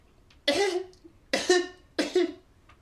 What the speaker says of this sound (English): He's coughing more than ever.